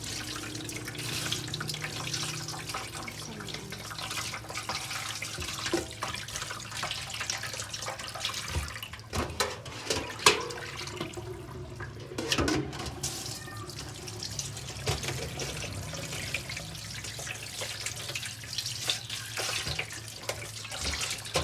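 Tap water runs steadily into a sink, with splashing and occasional handling sounds as raw chicken is rinsed under it.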